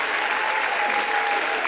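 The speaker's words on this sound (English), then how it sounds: "can everyone please join me in a final massive round of applause" Sustained, dense applause from an audience at an award presentation for a winning team at the 2019 Euro Cup, steady and loud throughout with no individual voices standing out.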